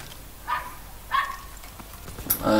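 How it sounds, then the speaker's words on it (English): A dog barks a few times in the background during a Call of Duty: WWII online game session, two or three distant, muffled barks spaced about half a second apart. "If you can hear the dog barking in the background, I'm so sorry for you guys."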